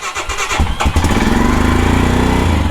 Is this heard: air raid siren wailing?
no